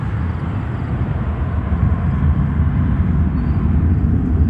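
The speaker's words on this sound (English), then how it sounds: "Cathay 747-8 cargo coming here on 10 center." Cathay Pacific Boeing 747-8 freighter, arriving from Anchorage, on approach to land on runway 10 center at Chicago O'Hare: a steady, broad jet roar that swells slightly louder toward the end, with no talk over it.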